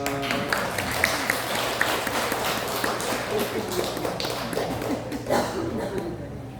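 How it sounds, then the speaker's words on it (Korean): A church congregation applauds after a blessing prayer for a child at a Sunday service, sustained scattered clapping in a reverberant hall with murmured voices beneath. "축복의 박수 해주시기 바랍니다"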